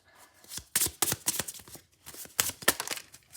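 Tarot cards are riffled and shuffled by hand in a series of close, crisp bursts of flapping card noise, separated by short pauses, with no talking.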